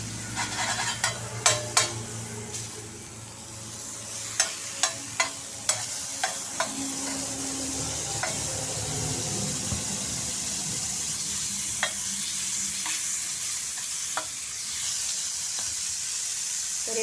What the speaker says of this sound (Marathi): आणि हे पाव मी भाजून घेणार आहे